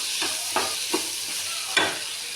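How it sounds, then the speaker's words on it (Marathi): Paneer frying in a pan for a home lunch of chapati and basundi, with a loud, constant sizzle and four distinct spatula scrapes spaced unevenly across it. "तर हे बघा पनीर आपलं फ्राय करून घेत आहे"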